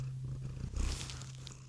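A cat purrs close by in a low, steady rumbling drone, growing a little louder near the middle, with no talking.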